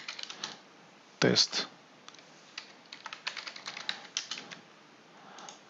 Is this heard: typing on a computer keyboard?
yes